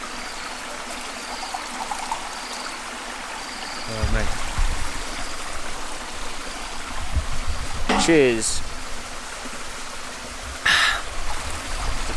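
A Malaysian jungle stream running high after a night of heavy rain makes a steady, close rushing and gurgling wash. Voices speak briefly over it, and a few clinks and knocks come through.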